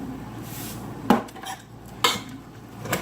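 Salted rice stirred in a bowl, heard as two sharp utensil clinks against the bowl about a second apart, with light scraping between them and no talking.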